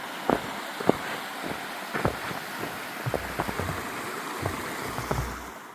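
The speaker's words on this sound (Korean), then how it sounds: "눈이 많이 쌓여서 잘 보이지 않지만 우렁찬 물소리는 참 청량하네요" A snow-covered mountain stream in Daegwallyeong valley rushes steadily in the background, with scattered splashy drips and taps breaking through, moderately faint and outdoors.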